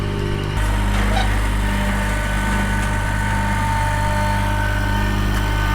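A 25-horsepower ride-on mower with a 1.4-metre front flail deck runs steadily nearby, a loud continuous engine drone with a constant mechanical hum and no change in pace throughout.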